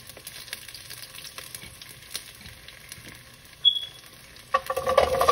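Ginger and serrano peppers frying in a pan for Chinese beef noodle soup, giving a soft steady sizzle with a few stirring knocks, then a louder burst of crackling near the end, close and without talk.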